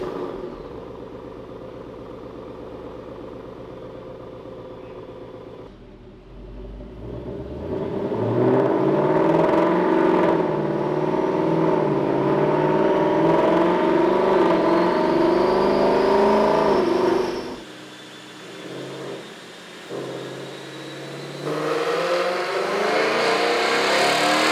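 A 2022 Ford Mustang GT with the Gen 3 Coyote V8 revs hard on a chassis dyno, climbing in a long loud pull with rising pitch, then dropping off and revving again, close and alone without talk.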